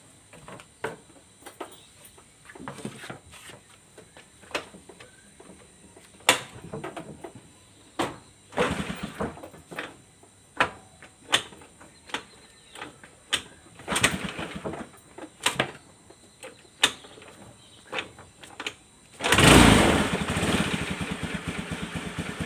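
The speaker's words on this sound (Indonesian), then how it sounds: "sekarang kita engkol dulu motornya guys" A series of scattered mechanical clunks and scrapes as a carbureted Honda Beat scooter, its engine run out of oil, is kick-started, then sputters to life and keeps running loudly.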